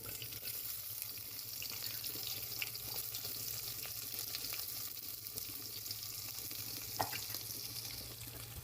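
Onions fry in a pan with roasted mustard seeds and cumin, giving a steady, close sizzle throughout with one sharp clink near the end.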